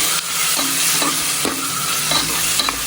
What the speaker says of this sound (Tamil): புதினாவை போட்டு வதக்கணும்